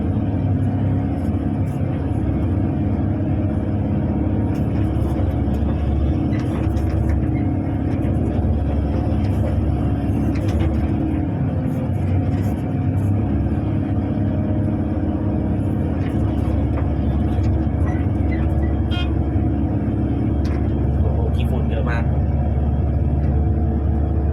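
A Kobelco SK200 excavator's heavy diesel engine drones steadily while digging a pond, a constant low rumble with faint clanks and mechanical knocks on top, close and continuous.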